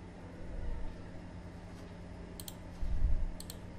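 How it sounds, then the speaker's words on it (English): A computer mouse double-clicks on a Windows PC, with two quick paired clicks about a second apart, faint and crisp over a low background hum, with no talking. "just double up click it to extract this zip file"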